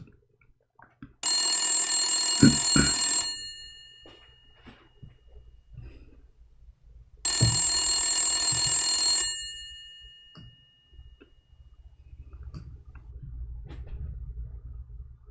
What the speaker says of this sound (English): If we call even Zakir Naik in his old phone number, I have his old phone, his hardline